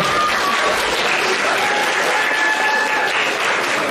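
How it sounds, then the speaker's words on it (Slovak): Closing applause from a lecture audience, a sustained wash of many hands clapping evenly at close range, with faint voices underneath. "Takže rozprávky pre Timoteja, ešte raz veľký potlesk."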